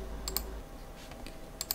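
Typing on a computer keyboard in a quiet room: two short bursts of two crisp key clicks each, at the start and end, faint and close, with no speech.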